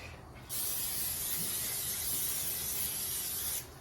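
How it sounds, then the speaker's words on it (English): Pam cooking spray hisses from the can onto a pan, one steady, close, loud burst of about three seconds with no talking. "I'm going to put some Pam on it to make sure the fish doesn't stick."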